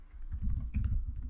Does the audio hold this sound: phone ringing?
no